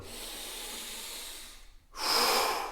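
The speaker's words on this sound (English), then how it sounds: "focus on nice, slow breathing, like deep breaths" Slow, deep human breaths taken during a relaxation exercise, a long steady airy exhale fading out, then a brief pause and a louder, rushing breath drawn in close to the microphone.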